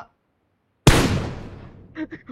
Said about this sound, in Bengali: আব্দুল্লাহ আব্দুল্লাহ গুলি করে না?